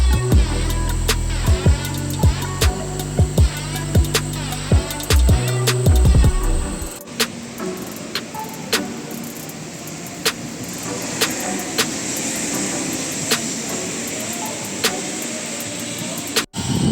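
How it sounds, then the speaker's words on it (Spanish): A Suzuki fitted with a Renault F9Q diesel engine on a test drive, a steady engine drone with frequent knocks and rattles from the body, an idling-like beginning giving way to continuous rolling noise and road hum. "ahora sí, ya estamos rodando, haciendo pruebas"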